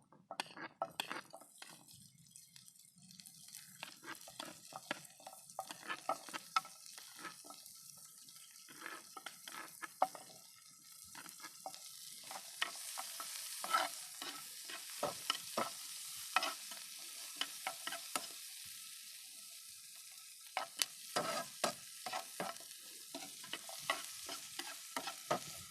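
Onions fry in a pan on an outdoor mountaintop camp stove, with soft continuous sizzling and frequent light scraping and clinking from stirring throughout, fairly faint.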